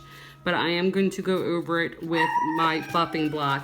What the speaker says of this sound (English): my dogs are barking at the trash man